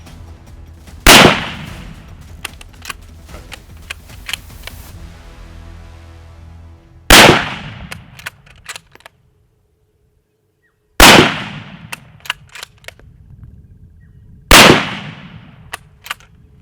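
Gunshots ring out during speed-shooting practice at a hunting academy: four loud, sharp reports spaced several seconds apart, each with a long echoing tail, with quiet outdoor background between them.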